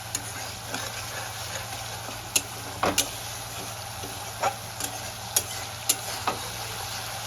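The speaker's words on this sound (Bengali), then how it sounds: "মশলার বাটিটা দিয়ে সামান্য একটু জল অ্যাড করে দেবো। মশলাটা কষিয়ে নেব।" Spice paste frying in a pan with a little water, a steady low sizzle punctuated by several sharp scraping clicks of a spoon stirring, no talk.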